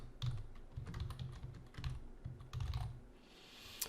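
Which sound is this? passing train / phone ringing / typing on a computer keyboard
typing on a computer keyboard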